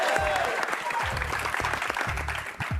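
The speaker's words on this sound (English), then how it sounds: "let's give a round of applause to Matisha." Studio audience applause for a contestant on a school quiz show, steady clapping at moderate volume with a speaking voice over it.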